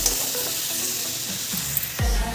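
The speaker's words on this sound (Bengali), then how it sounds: "এই দেখো জল দিয়ে দিলাম" Fried fish masala sizzling in a pan, a dense hiss with faint clinks, then a sudden louder whoosh near the end as water hits the hot spices.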